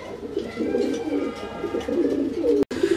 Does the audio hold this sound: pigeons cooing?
yes